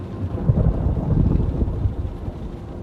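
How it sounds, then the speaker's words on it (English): Deep, sustained rumbling of thunder from a violent thunderstorm, a continuous low roll that swells and fades over a few seconds with no clear single crack, carried on steady broadband storm noise. "violent thunderstorm blew up"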